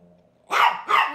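A dog barks twice in quick succession, loud and close, in an indoor setting, with a faint voice murmuring just before the barks.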